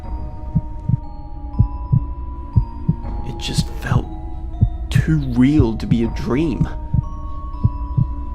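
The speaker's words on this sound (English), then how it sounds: "I could hear my own heart beating." A heartbeat thumps in a slow, even rhythm of low beats under a low hum, continuing steadily while a voice speaks over it.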